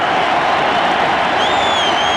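A packed stadium crowd at Game 3 of the 1989 World Series, Athletics at Giants, roars and rises to its feet; loud, dense cheering fills the whole stretch with a whistle cutting through near the end.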